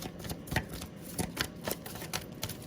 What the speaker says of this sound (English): So can y'all see me shuffling?